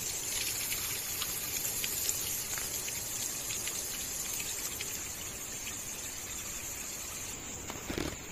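Water gushes strongly and continuously from the tap of an open-air washing sink at a campsite, a loud, even rush with a faint high whine over it.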